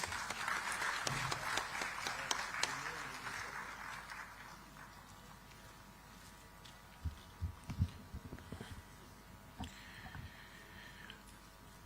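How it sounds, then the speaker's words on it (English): An audience at a digital technology summit in Visakhapatnam gives a round of applause to welcome a speaker. The clapping is moderately faint and tapers off after a few seconds, followed by scattered thumps and quiet room noise. "please welcome him with a huge round of applause"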